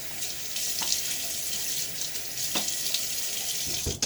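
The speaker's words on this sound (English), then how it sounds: "douse my face in water once again" Tap water running steadily into a sink while a face is doused during a wet shave, with scattered splashes and drips over the continuous flow, close and fairly loud, no talking.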